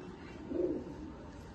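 Pigeon in a home loft, a single soft low coo rising briefly over a faint room hum.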